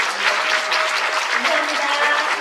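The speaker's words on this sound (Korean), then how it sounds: "전문가 패널분들께 다시 한번 박수 부탁드리겠습니다." An indoor audience at a panel discussion event claps steadily for the expert panelists, producing a dense, even patter of many hands that lasts a couple of seconds at moderate loudness.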